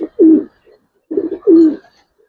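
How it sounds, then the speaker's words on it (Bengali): Teddy pigeons, a high-flyer breed, coo in two close, clear bouts of soft, rolling calls separated by a short pause, with no talk over them. "টেডি কবুতরটার কোয়ালিটি দেখেন।"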